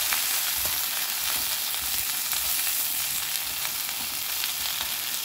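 Okra frying in coconut oil, stirred slowly in the pan, gives a steady, close sizzle with faint scrapes of stirring running through it, unbroken and without talk.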